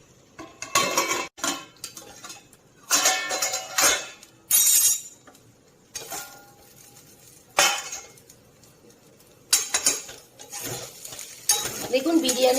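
Biryani rice being stirred in a cooking pot, with a spoon scraping and clinking against metal in several separate bursts of a second or two, quiet pauses between them, close and fairly loud.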